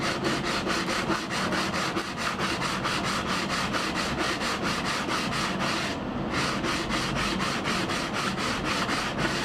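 Steady, rhythmic back-and-forth sanding of wood with sandpaper, close and continuous, with quick even strokes and no talking.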